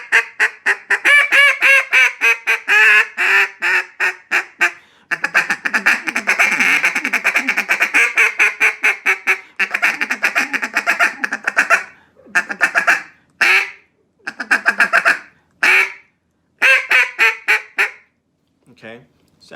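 Duck call blown by a caller in a wetland hunting setting, mimicking a bunch of ducks: rapid series of nasal quacks and raspy honks in bursts, loud and close, with short pauses between sequences and a few sharp final notes.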